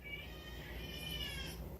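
A domestic cat meows indoors in one drawn-out, fairly faint call lasting most of the moment, with no talking over it.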